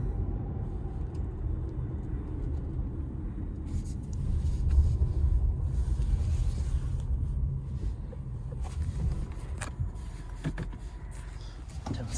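A 2020 Buick Encore GX Essence driving slowly through a U-turn, its low engine and road rumble steady from inside the cabin, swelling briefly midway, with a person talking over it.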